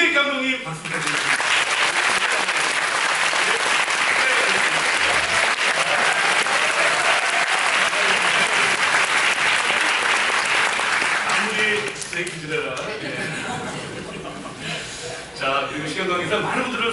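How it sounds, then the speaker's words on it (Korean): Loud, sustained applause from a large crowd at a musical's final-performance curtain call, continuous for most of the stretch before tapering slightly near the end. "자, 우리 오재익 감독님 박수 부탁드립니다"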